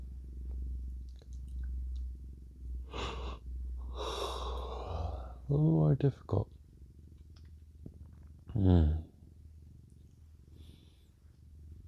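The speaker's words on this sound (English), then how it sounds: "These yawns, man, they're relaxing me like no other." A man yawns twice, long, open-mouthed and breathy, one near the middle and one later, standing out loudly from his quieter talk over a low steady hum.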